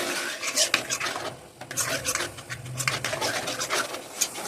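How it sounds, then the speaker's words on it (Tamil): Sago halwa stirred continuously in a pan, heard as close, uneven rasping scrapes of a spoon across the pan bottom in quick repeated strokes, with no speech. "கைவிடாமல் அப்படி கிண்டிக்கிட்டே இருக்கு"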